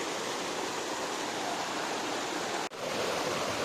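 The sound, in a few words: Ramasari waterfall falling into valley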